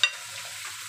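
Shrimp with salt and pepper stirred in a hot pan, a short scrape of the utensil followed by steady sizzling, close and alone.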